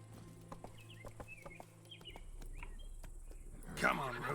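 Roach the horse's hooves clop in a steady, evenly spaced walking rhythm in The Witcher video game, with bird chirps overhead and a louder voice breaking in near the end.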